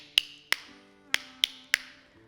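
Five sharp clacks of two plastic spoons struck together, spaced unevenly over two seconds, crisp and close, with a faint steady hum underneath.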